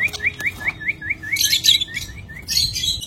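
Caged lovebirds in a colony cage give a run of rapid, rhythmic high chirps, with brighter overlapping calls from other birds joining in near the end, all close by and fairly loud.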